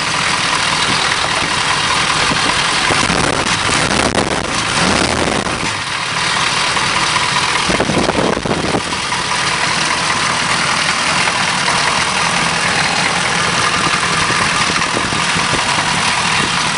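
A well-worn car engine with a new fuel pump idles roughly, a loud continuous low rumble heard up close, steady throughout with slight unevenness and a couple of brief dips.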